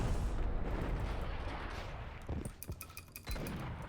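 Gunfire in the Max Payne video game, a dense rumbling wash of shots and explosions that eases into a few sharper distinct cracks near the end.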